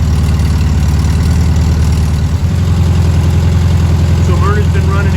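A Volkswagen Beetle engine idles loudly and close by with a steady, throbbing low rumble that holds even throughout. A faint voice is heard near the end.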